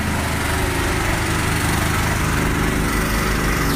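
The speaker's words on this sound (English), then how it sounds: "that sort of clatter of a diesel generator" Diesel generator clattering steadily at an outdoor town fair, a loud, unbroken mechanical racket with dense high rattle over a low engine hum, close by and alone without talk.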